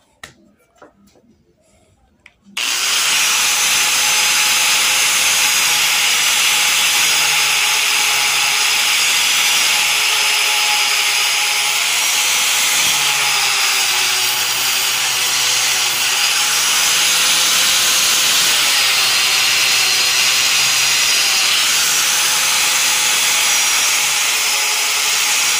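An old rubber tire being cut with a power tool, a loud, steady, harsh grinding whine that starts abruptly after a quiet moment and runs continuously up close, with slight shifts in pitch as the cut proceeds.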